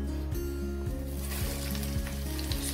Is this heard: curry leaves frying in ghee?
yes